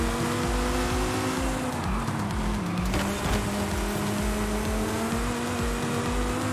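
Race van in a racing video game carrying a steady engine drone through corners, with pitch sliding up and down and tires squealing, loud and continuous.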